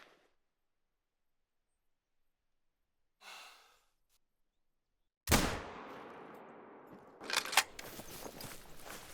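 A single sharp gunshot fired at a black-tailed deer in a hunting video game cracks out loud and then trails off in a long fading echo, with a soft breath heard earlier and further rustling noises after.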